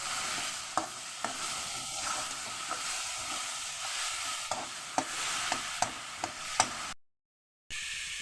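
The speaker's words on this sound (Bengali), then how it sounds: "মশলা দিয়ে একটু ভেজে নেব" Potatoes and spices fry in a pan with a steady sizzling hiss, punctuated by periodic clacks of a spatula stirring against the pan, close up, before a brief cut to silence near the end.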